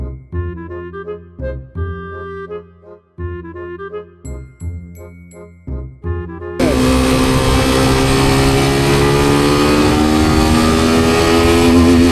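A motorcycle engine roars to life in a city, loud and steady after several seconds of tinkling, melodic sounds at the start.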